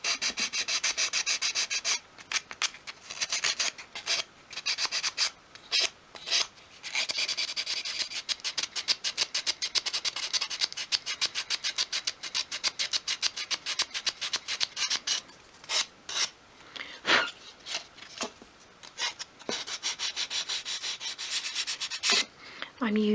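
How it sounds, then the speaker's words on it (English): Painted dolls house furniture in wood is sanded by hand with 500-grit sandpaper. Steady, close scratchy rubbing strokes repeat in quick rhythm for the whole stretch, broken by a few brief pauses, with no talking. "I'm using a less harsh sandpaper as well, a 500, just where I want to take away the sort of top layer of the blue"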